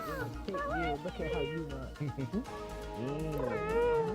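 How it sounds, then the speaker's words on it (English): Little cats meow repeatedly around a VRChat world in the land of Neko, their high wavering calls rising over nearly continuous talk from players nearby. "There are little cats all over the place."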